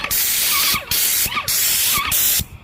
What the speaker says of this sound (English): you can watch me spray, or try to at least